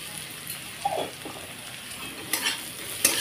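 Browned onions fry in a pan with black cumin seeds added. A soft sizzle runs under occasional stirring scrapes and a few sharper spatula taps.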